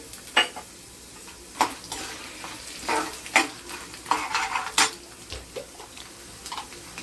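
Urad dal sputters in hot oil for raw mango pulihora, a steady sizzle broken by sharp clicks and stirring scrapes at irregular intervals, close by with no voices.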